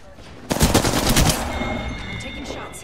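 A loud burst of automatic gunfire from the game Apex Legends opens sharply after a brief hush, a fast run of close shots lasting about a second before fading into game ambience and high electronic tones.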